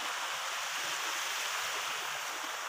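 A countryside river in the Philippines rushes steadily, a dense, constant hiss of flowing water heard close and alone, with no voices.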